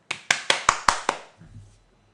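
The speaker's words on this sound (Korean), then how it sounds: "박수 한번 드립니다." Six sharp, evenly spaced claps ring out close and fairly loud during a Korean stock-investing lecture, followed by a faint scattered patter that quickly fades to quiet.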